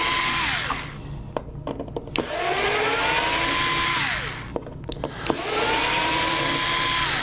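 Twelve screws come out of an appliance control panel under an electric screwdriver, heard as a few long whirring runs that rise and fall in pitch, broken by brief clicks and gaps.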